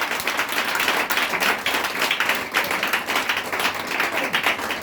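A church congregation claps and cheers in praise of the Lord, a dense, steady wash of applause filling the room without a break.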